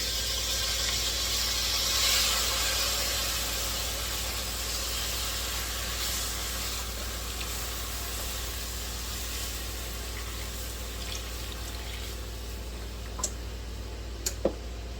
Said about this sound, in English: now we're going to pour in slowly our 2 cups of chicken stock